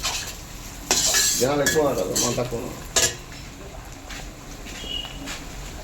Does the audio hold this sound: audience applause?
no